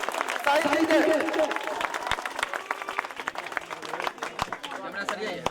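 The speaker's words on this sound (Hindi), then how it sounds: "ताली बजबत रहियो" Applause from a crowd at a cricket tournament prize ceremony for the Habibhauad Cup 2025, season 7, steady clapping under someone talking over a loudspeaker.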